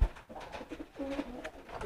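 Domestic pigeon cooing close by, a tame but hand-shy bird giving soft, low repeated coos in short rounded phrases across a quiet indoor setting.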